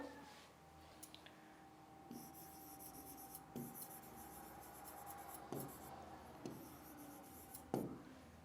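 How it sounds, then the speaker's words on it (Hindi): A pen scratches softly across paper, writing out an answer in faint, intermittent strokes with occasional light taps, close and quiet, with no voice. "हम क्वेश्चन नंबर 2 का आंसर लिखते हैं।"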